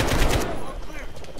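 Automatic AK rifle fire in the Call of Duty Modern Warfare campaign, with a dense loud burst of rapid shots over about half a second that then drops to a quieter, ringing game soundscape.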